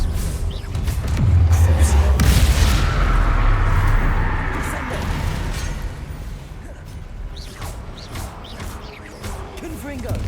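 In the video game Hogwarts Legacy, a Confringo blasting spell explodes with a deep, rumbling boom and crackling debris that swell, then trail away into fainter combat noise.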